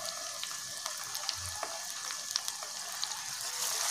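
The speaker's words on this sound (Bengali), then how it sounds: "প্রত্যেকটা এইভাবে আমরা ভেজে নেব।" Paneer pieces fry lightly in a pan with a steady, soft sizzle that holds through the whole stretch, no voices over it.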